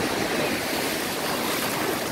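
Sea waves wash onto a beach below cliffside Maya ruins at Tulum, a steady dense hiss of surf filling the short stretch with no breaks.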